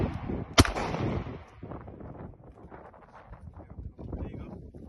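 A single sharp Glock pistol shot cracks close by at an outdoor 20-yard shooting competition, followed by wind noise and faint voices talking in the background.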